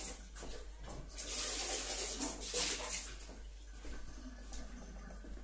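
Water is poured out of a coffee machine's water container during descaling, a soft, uneven splashing stream that swells and eases over about five seconds at low volume.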